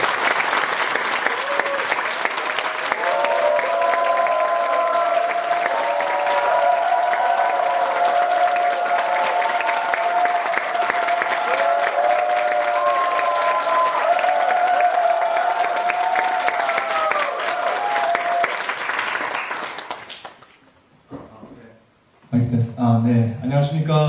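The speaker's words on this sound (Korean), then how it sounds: "큰 박수로 맞이해 주시길 바랍니다." Loud, dense audience applause greeting a speaker at a gathering, steady clapping with a sung or spoken voice line carrying over it, fading out before a voice begins alone at the end.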